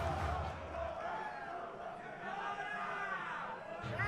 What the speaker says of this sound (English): We just got a Dora chant.